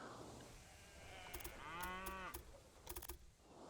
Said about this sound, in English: That's such a stock cow sound.